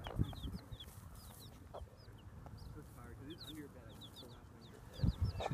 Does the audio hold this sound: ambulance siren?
no